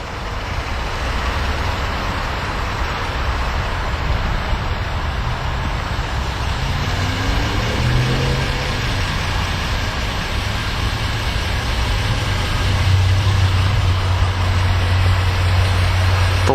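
A 2011 Ford Explorer Limited sits idling, a steady low engine hum running evenly throughout with a slight rise in rumble toward the end, close and continuous with no talking.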